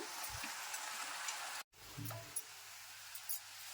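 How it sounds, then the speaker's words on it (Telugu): Onions and tomatoes fry in a pan with a steady, fairly quiet sizzle, broken by a few soft stirring knocks and one brief dropout, and no talk. "ఆనియన్స్ టమాటా ఈ విధంగా ఫ్రై అయినాక"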